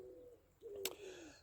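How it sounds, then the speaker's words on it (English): Wood pigeons cooing in the background at a cabin with a strawberry patch on a hot, humid day, a single soft low call sustained and faint, with a brief sharp noise partway through. "I think it's wood pigeons,"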